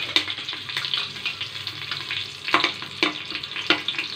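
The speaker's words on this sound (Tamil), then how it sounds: "பட்டை, லவங்கம், அன்னாச்சிப்பூ, சோம்பு இதெல்லாம் எடுத்து வச்சுருக்கேன். எல்லாத்தையும் எண்ணெய் காஞ்சிச்சு உள்ளே போடலாம்." Whole spices, cinnamon, cloves, star anise and fennel, crackling in hot oil for mutton biryani; irregular sharp pops over a steady sizzle, close and fairly loud.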